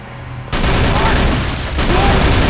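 A Tommy gun fires in the Call of Cthulhu game, a sudden loud sustained burst of rapid shots that starts abruptly and rattles on densely to the end.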